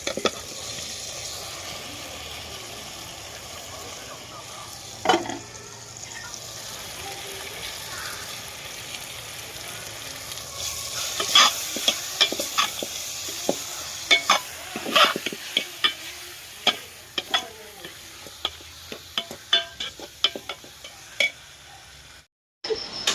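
Washed potato pieces dropped into a pan of tomato curry with chili powder and salt, sizzling steadily while a spoon scrapes and stirs through them, close and fairly loud, with a soft voice briefly audible.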